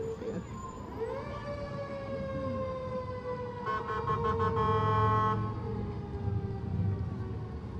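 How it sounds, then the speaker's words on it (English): A siren at an Independence Day parade in Arlington wails with a rising and falling tone, fairly loud and steady, with a brief burst of horn-like toots partway through over crowd and street noise. "Any more sound of the parade than a good There's siren?"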